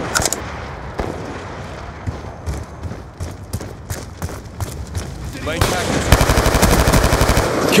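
Rapid bursts of automatic gunfire in Call of Duty Black Ops 2 multiplayer, sharp rattling volleys growing louder and denser toward the end, with game voice callouts mixed in.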